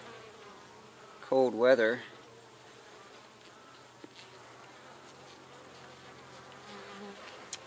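Honey bees in a horizontal beehive with a honey super on top give off a faint, steady low buzz, with a short stretch of speech near the start.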